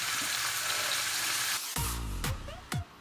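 Chinese kale stir-fried in a pan, a steady bright sizzle that cuts off, followed by clattering and a few short scraping strokes of the utensil.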